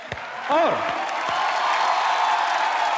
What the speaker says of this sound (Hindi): मैं चाहूंगा कि आप सबके लिए जोरदार तालियां हो जाए